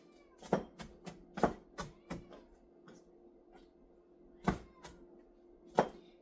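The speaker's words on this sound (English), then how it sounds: "So I'm going to chop up some spinach" A knife chops spinach on a cutting board in sharp, uneven thuds. A cluster of quick strokes is followed by a pause, then two isolated chops, all close and fairly quiet over a faint steady hum.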